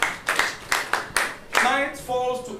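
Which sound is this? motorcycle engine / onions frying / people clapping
people clapping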